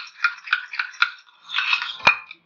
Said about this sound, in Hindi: ये हम इसका पेस्ट बनाएंगे, इसलिए हम ये घी को अच्छे से मिक्स करेंगे